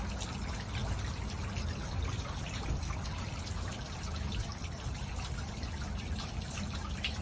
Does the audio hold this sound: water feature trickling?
yes